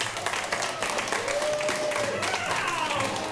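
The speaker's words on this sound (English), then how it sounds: "let's give him a round of applause." Audience at an improv comedy show applauds as a performer comes to the stage, a dense wash of clapping and crowd noise with some voices and a brief tonal sound mixed in.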